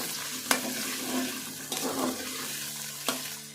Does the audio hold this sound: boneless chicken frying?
yes